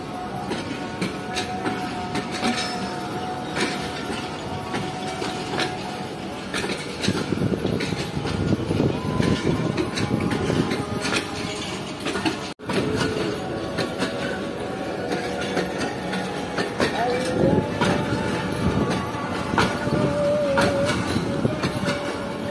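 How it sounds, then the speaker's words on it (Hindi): The 7 Up Tezgam Express pulls into Nawabshah station, a steady, loud rumble of rolling railcars with rhythmic wheel clatter and occasional squeals persisting throughout with no pauses. "अब से कुछ ही देर में यहाँ पर पहुँचने वाली है 7 अप तेजगाम एक्सप्रेस"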